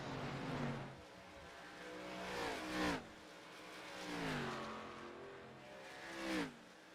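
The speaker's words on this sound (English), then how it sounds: "So, Arca car at Texas, Steve McDonald" ARCA series stock cars race at Texas, with engines repeatedly rising and falling in pitch as cars sweep past, three distinct pass-bys over a steady engine drone.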